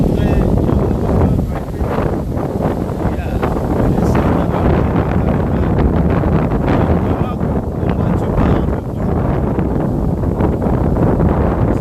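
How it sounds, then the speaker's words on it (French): Strong wind buffets the microphone outdoors throughout, a loud continuous rumbling roar with gusty surges and no break. "Il y a vraiment un vent très fort là où nous sommes"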